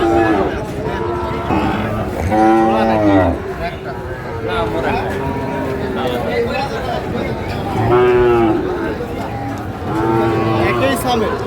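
Sahiwal cattle at a livestock market give several loud, drawn-out moos, one around two to three seconds in and another near eight seconds, over steady crowd chatter and background talk.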